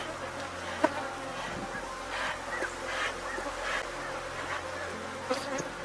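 Honey bees buzz around beehives during a hive inspection, a dense continuous drone of many insects at close range with small fluctuations.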